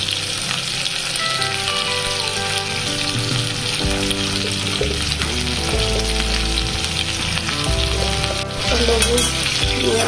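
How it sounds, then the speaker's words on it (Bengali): Potatoes frying in a pan with a steady, dense sizzle that runs continuously throughout, loud and close, with faint kitchen clatter and music-like tones mixed in. "এখন আলুগুলো ভেজে নিই, দাঁড়াও করে নিই হালকা"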